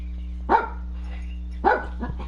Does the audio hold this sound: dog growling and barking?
yes